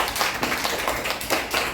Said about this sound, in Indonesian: berikan tepuk tangan kepada Sukra ya